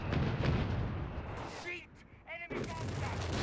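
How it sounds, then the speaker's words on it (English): Pack howitzer artillery firing in a combat video game, with dense booming gunfire and explosions filling the first and last thirds around a quieter gap, some talk mixed in. "So it's just a tiny howitzer."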